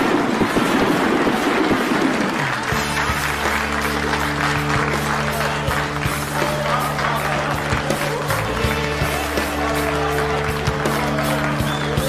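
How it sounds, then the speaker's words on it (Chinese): Wedding guests applaud in a hall, a dense clatter of clapping that runs throughout. Sustained music tones swell in underneath once the clapping is underway. "让我们掌声祝福两位。"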